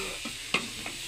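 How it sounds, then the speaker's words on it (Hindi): Food being roasted and stirred in a pan, mung beans and cauliflower, a soft sizzle with two or three quick spatula scrapes in a brief moment, faint and close. "चलो अच्छे तरीके भुनाई कर लो"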